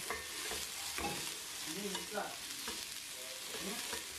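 Potatoes cut into small cubes and onions fry in a pan with a steady sizzle while a spoon stirs and scrapes in irregular strokes.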